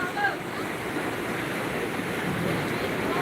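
Sea waves wash steadily onto Kuthang tourist beach in Pidie Jaya, Aceh, a continuous broadband surf roar with wind buffeting the microphone and faint voices nearby.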